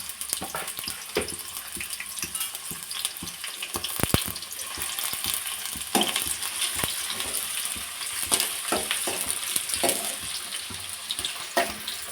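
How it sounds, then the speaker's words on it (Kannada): Chopped onions fry in hot oil in a pan, a steady close crackling sizzle running throughout with occasional sharper pops and spatters, no voices. "ಈರುಳ್ಳಿ ಸ್ವಲ್ಪ ಕೆಂಪಗೆ ಆಗೋ ತನಕ ಚೆನ್ನಾಗಿ ಫ್ರೈ ಮಾಡ್ಕೊಳ್ಳೋಣ"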